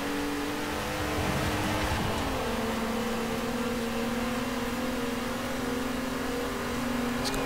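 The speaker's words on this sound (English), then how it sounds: "it may well have that large V6 engine up front, or VR6 engine up front, in fact" A hot hatch with a VR6 engine holds a steady, droning note through a race in Forza Horizon 4, loud and continuous with slight shifts in pitch and no talk.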